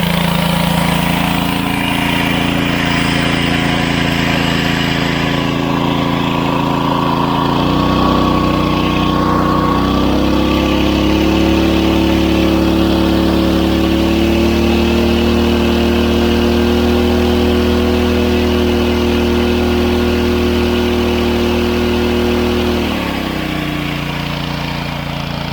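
Honda GX160 small engine driving a home-made 12V DC generator, a loud continuous mid-pitched drone that shifts in pitch and load a few times, running alone without talk.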